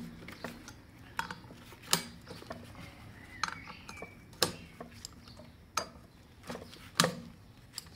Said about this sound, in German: dann nehmt ihr euch eine 14er Nuss und tut vom Kettenrad die Muttern lösen